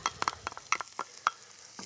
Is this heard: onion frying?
yes